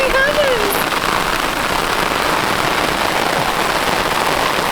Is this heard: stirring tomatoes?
no